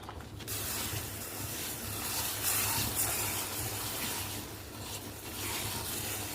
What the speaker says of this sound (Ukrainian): туди висипаю нашу зажарку